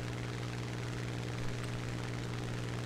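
Piston aircraft engine droning steadily while climbing toward a bomber in War Thunder, a constant loud hum with a strong low tone and no breaks throughout.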